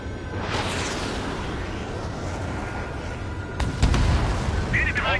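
Booming missile blasts and gunfire rumble continuously through an Ace Combat 7 air battle over dense background noise, with a sharper, heavier burst near the end.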